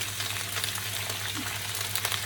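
Garlic, ginger and chilies fry in a hot pan with a steady, close hiss and crackle that holds evenly throughout, no voices over it.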